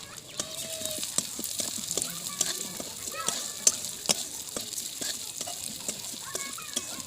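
Whole spices, including cinnamon and bay leaf, fry in hot oil in a kadai, producing light, uneven sizzling with scattered crackles and stirring clicks, fairly faint, plus a rooster-like call in the background.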